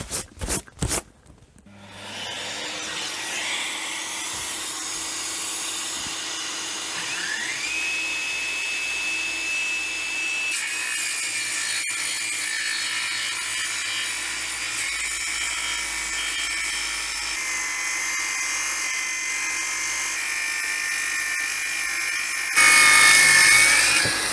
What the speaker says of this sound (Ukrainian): Зараз притащу пилисос і будемо дивитися, як воно засмактує.